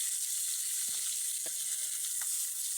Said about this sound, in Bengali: তো এখন দেখেন মাছগুলো আমি এমনভাবে ভাজবো